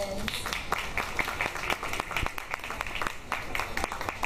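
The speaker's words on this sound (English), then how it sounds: "All right, round of applause." Scattered clapping from a modest crowd at a festival opening, individual claps distinct and uneven, with some cheering voices underneath.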